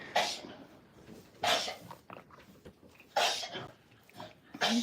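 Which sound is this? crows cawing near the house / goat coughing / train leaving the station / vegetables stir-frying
goat coughing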